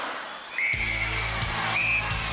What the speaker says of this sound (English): Jean, you will go on my first whistle.